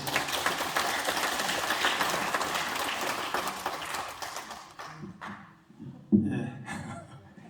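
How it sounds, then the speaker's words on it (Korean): Audience applause in a lecture hall at a cultural centre during a history lecture: steady clapping from a crowd that fades out, followed by a few scattered claps and a sharper single knock near the end. "한 번 더 박수 부탁드립니다."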